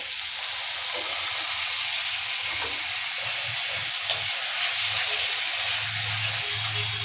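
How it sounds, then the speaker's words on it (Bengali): Spice paste fried and stirred in a pan for a Bengali fish curry, a steady sizzling hiss with low scraping stirs and one brief clink near the middle, close and continuous with no talking. "আর একটু ভালো করে কষিয়ে নেব"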